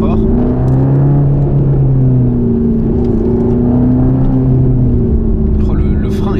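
A Mercedes-AMG GT Black Series, 730 horsepower, with a seven-speed dual-clutch gearbox in manual mode and its exhaust open, drones loudly up close with a rising and falling engine hum throughout, and a brief crackle near the end.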